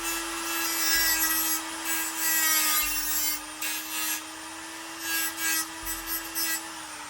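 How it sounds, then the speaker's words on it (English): A power drill whines steadily while grinding into the metal front face of a Scion tC radiator support, with a few louder rasping pushes as the bit bites in. "What you saw me just did was basically I drilled the front face of these"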